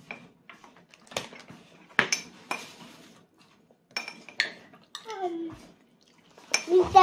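Dishes and cutlery clink and clatter in several short knocks, one sounding like a plate set down, with faint talk around them.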